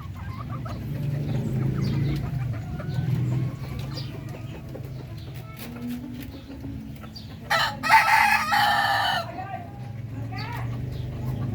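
Darag chickens on a breeder's farm, with soft clucking throughout and one loud, close rooster crow, under a continuous low background hum.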